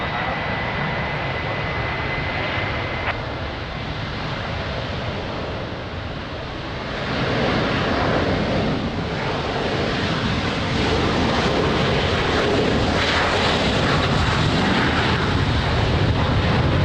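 A Lufthansa airliner on approach to Lisbon Airport in rain, its engines giving a steady, loud broadband roar that swells slightly partway through and holds without a break.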